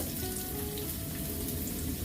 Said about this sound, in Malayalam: ഇതിലേക്ക് 1 സ്പൂൺ കടുക് ഇട്ട് കൊടുക്കാം. കടുക് പൊട്ടി വരുമ്പോഴത്തേക്ക്